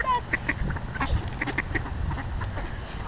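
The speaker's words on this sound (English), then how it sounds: "Feed the ducks." Ducks at a pond give short, scattered quacks at middling distance over a low outdoor rumble, several brief calls spread across a few seconds.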